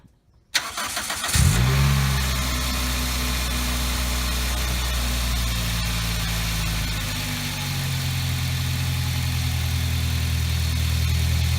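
A Toyota Celica engine cranks briefly, catches and starts, then settles into a steady, loud, close idle with a deep even rumble, with no voices.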